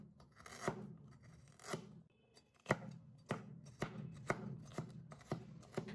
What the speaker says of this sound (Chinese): 切一切再剁一剁。